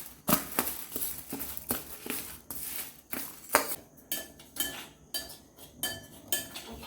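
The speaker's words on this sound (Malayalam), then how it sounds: "നമ്മൾ വറുത്ത് വെച്ചിരിക്കുന്ന മണിച്ചോളത്തിലേക്ക് നമ്മൾ പൊടിച്ചതൊന്ന് മിക്സ് ചെയ്ത് കൊടുക്കുന്നുണ്ട്" Roasted sorghum grains mixed with a ground powder are stirred in a pan for sorghum chikki, giving close scraping and metallic clinks at an irregular rhythm with no talking.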